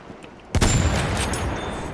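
Battlefield 1 gunfire aimed at an airplane erupts suddenly after a quiet moment, a loud close burst of shots that rolls on as a dense, sustained rattle.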